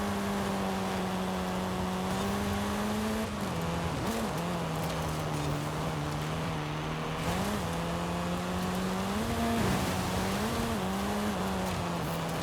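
Race car in Forza Horizon drones with a steady engine tone that dips and climbs repeatedly as the throttle is worked and the e-brake pulled through turns, a continuous close-up hum with scattered bumps and skids.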